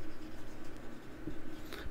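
Marker or chalk scratching on a classroom board during an English lesson, with short strokes close by over steady room noise.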